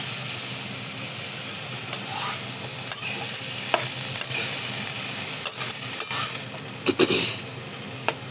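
Spring onion greens fry in a hot pan, a steady close sizzle broken by scattered scraping clicks as a spatula stirs them.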